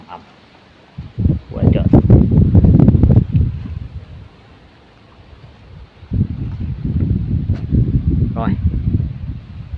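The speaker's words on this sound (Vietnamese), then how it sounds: "Và ở đây trời rất là gió này. Đấy, đang gió nổi lên ầm ầm." Strong outdoor wind buffets the microphone in two long roaring gusts, with rustling through them and someone speaking briefly near the start.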